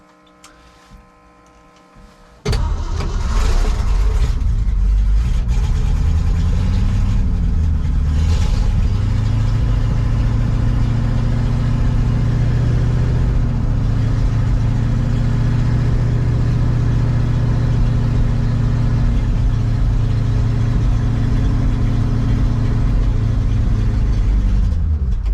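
A cold 1966 Ford truck V8 catches at about two and a half seconds and settles into a loud, steady, rumbling idle that carries on alone for the rest of the clip.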